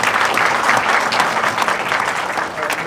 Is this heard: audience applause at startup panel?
yes